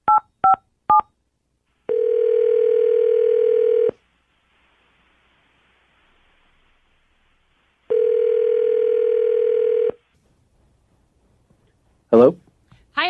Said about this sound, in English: I'm going to go and give him a phone call.